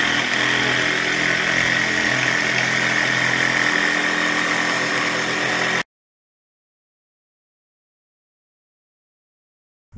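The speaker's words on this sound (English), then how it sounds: "Now, let's get the jigsaw out." Jigsaw running continuously at an off-grid cabin during solar panel fitting, a loud close buzzing motor whine for several seconds that cuts off abruptly into silence.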